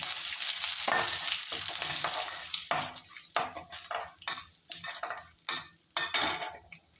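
Curry leaves hitting hot oil for a coconut rice tempering: a loud close burst of spitting sizzle that breaks into choppy crackles with occasional stirring clinks, no talk.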